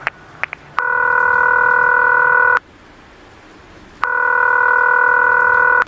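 A telephone ringback tone: two long, steady electronic rings separated by a pause, clear and fairly loud with no talking.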